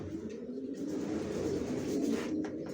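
Racer pigeons coo in a low, continuous murmur, close and fairly soft, with a few faint higher chirps near the end and no speech.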